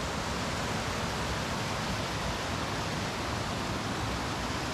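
A waterfall on a backcountry trail in Algonquin, heard as a steady, unbroken rush of white water at an even level from start to finish.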